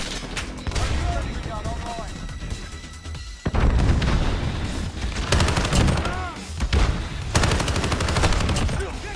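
Rapid bursts of AUG submachine gun fire in Modern Warfare 2019, loud and close, repeated in several sustained volleys with sharp cracks and booms between them.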